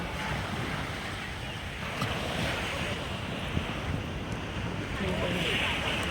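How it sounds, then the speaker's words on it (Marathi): Continuous broad rush of evening sea waves washing onto Juhu Chowpatty beach in Mumbai, mixed with gusty wind noise on the microphone, fairly loud and unbroken throughout. "संध्याकाळच्या वेळी शांत त्या लाटा चालू"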